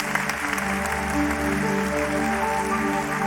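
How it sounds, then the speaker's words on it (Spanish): Congregation applauding inside a church during a worship service, a steady wash of clapping sustained throughout over sustained musical tones from instruments. "Denle un aplauso a Cristo."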